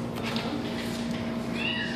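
Cat meows at a humane society shelter in Dublin, Georgia, a few short mews heard close by over a steady room hum and background noise.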